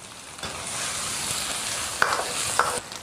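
Pickled chilies, ginger and green Sichuan peppercorns stir-fried in a hot wok with oil, giving a steady loud sizzle throughout, with two sharp spatula scrapes near the end and no talking.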